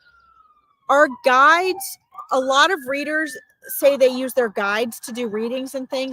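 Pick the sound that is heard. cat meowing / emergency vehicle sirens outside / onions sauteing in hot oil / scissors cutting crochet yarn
emergency vehicle sirens outside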